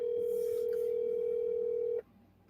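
A steady electronic telephone tone sounds continuously while a call is placed, holding for about two seconds before cutting off abruptly into quiet background hiss.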